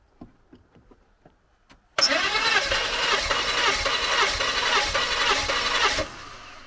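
A Skoda Superb 2.8 V6 engine cranks on the starter during a compression test. A few soft clicks come first, then about four seconds of loud, rhythmic churning cranking start abruptly and cut off sharply, leaving a quiet tail.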